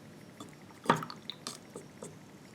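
Water dripping from a loaded paintbrush onto paper, a few soft separate drops spaced out over a quiet background.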